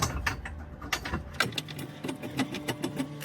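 A size 14 socket ratchet works bolts on a 2021+ Toyota Sienna during a spare tire mount, giving quick bursts of metallic clicking in uneven spurts, close by and fairly quiet.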